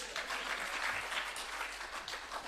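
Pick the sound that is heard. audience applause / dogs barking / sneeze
audience applause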